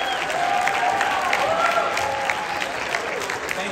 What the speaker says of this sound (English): We have another round of applause for the performers.